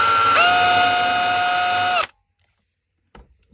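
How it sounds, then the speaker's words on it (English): A power drill bores a hole into plywood in one continuous whine that rises in pitch and holds for about two seconds before stopping abruptly, followed by silence and a faint knock. "And then I drill that first hole."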